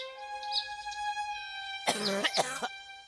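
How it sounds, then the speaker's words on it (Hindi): A cartoon old man coughs in a village story, several harsh, raspy coughs bunched together in the middle, loud and close over a sustained musical tone. "खांसी और बुखार ने उसे कमजोर कर दिया"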